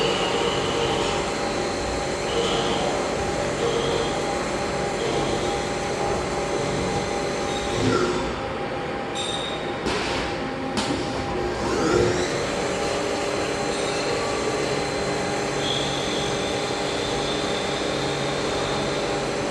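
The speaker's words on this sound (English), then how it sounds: "We have it homing on this machine." A Haas CNC machine hums and whirs steadily while homing, a loud continuous mechanical drone with a brief shift in tone midway, no voices.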